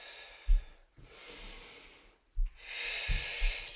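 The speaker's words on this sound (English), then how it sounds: "Super deep breaths here. Inhale down, exhale up." Deep breaths in and out during a strength class, each slow hissing inhale and exhale swelling and fading close to the mic, with a few soft thumps between them and no talking.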